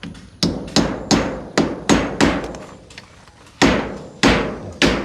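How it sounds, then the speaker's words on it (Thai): A large nail is hammered and bent over while building a kitchen extension. About eight loud, sharp metallic strikes ring out at an uneven pace, and each one decays briefly before the next. "ตอกงัดเอาแล้วตอกพับเอา"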